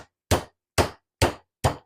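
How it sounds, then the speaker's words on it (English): The flat side of a meat mallet pounds pork for schnitzel in four sharp, evenly spaced thuds, each loud, close impact decaying quickly into silence before the next strike. "We're going to use this side, the flat side, to hammer down this pork."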